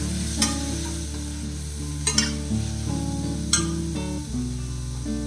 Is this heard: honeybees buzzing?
no